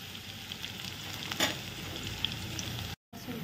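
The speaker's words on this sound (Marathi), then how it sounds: "लसूण छान फ्राय झाला." Crushed garlic cloves with green chilli frying in oil in a wok, a quiet steady sizzle with a brief louder crackle of stirring, close and without talk.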